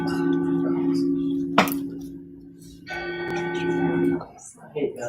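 A bell rings in a school classroom: a steady sustained tone carries through the opening seconds, briefly fades, then rings again with a bright, layered tone before stopping, with a sharp knock in between and voices near the end.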